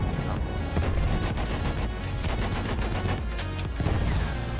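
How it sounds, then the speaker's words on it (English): Sustained, dense gunfire exchange in the Battlefield 1 video game: overlapping rapid bursts and heavy booms fill the whole stretch, loud and close with no talking. "that guy shot at the same exact time as I shot"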